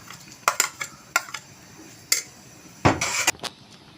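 Bread being mashed into reduced milk in a pan for bread barfi, heard as scattered spoon clinks and scrapes against the metal pan in short irregular bursts, close and fairly clear, with no talking.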